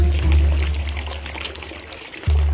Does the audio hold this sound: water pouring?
yes